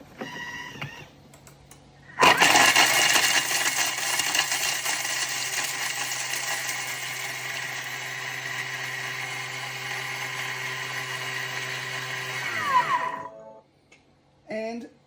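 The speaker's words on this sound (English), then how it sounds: "now we're going to chop that up 10 seconds on speed 9" A Thermomix food processor chops at speed 9 for about ten seconds, a loud, steady rattling whir that winds down abruptly, with brief talk before and after.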